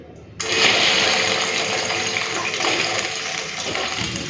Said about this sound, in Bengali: ওই তেলের মধ্যে দিয়ে দিচ্ছি গাঁঠি কচু